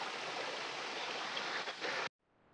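A waterfall roars as a steady, loud broadband rush close by, then cuts off abruptly near the end, leaving faint background.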